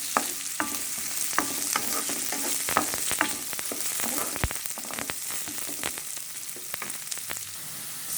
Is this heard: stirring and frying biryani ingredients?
yes